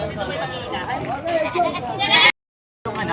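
Goats at a livestock market in Padre Garcia, Batangas, bleating loudly and close among voices and chatter, ending in a rising bleat before a brief dropout.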